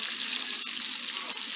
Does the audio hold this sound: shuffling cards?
no